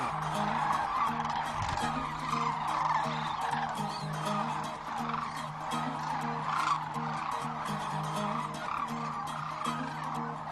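A chorus of rolling, trilling sandhill crane calls continues steadily, layered with a low hum and rustling ambience in the background.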